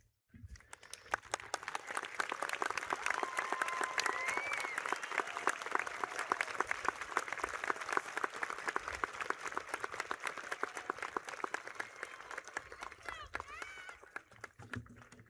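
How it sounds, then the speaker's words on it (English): Loud sustained audience applause fills a high school graduation ceremony as parents and guardians stand, with dense clapping from a large crowd holding steady before fading out. "please stand for a round of applause."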